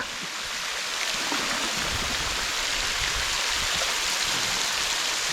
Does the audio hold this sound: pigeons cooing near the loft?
no